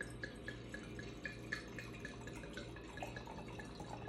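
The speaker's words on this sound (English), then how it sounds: "that pours like a good old red California wine" Red California wine from a talking wine bottle pours into a glass with soft, steady trickling and light droplets, quiet and close, with no talking over it.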